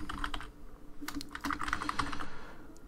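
Quick bursts of typing on a computer keyboard while entering an SQL query, a close, steady clatter of keystrokes with short pauses between bursts and no speech.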